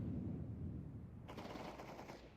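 Rapid automatic gunfire from a FACEIT match video game breaks out as a sharp burst of repeated shots halfway through, following a quieter low rumble, and it stays fairly faint overall.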